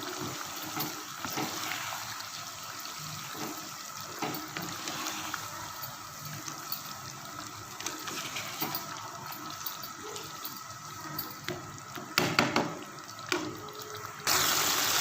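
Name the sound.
chicken frying with garlic and ginger paste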